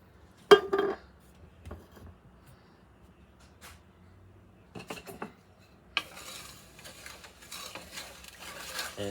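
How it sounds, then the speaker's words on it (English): Sugar and milk being stirred in a pot for caramel icing: scraping spoon against the pan with a few knocks, a sharp clink early on and steadier stirring and rattling toward the end, fairly quiet and close. "And we're just going to stir that."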